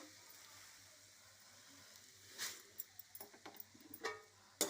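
Flattened rice (atukulu) frying in oil makes a faint, low sizzle that builds into scattered soft crackles and pops toward the end.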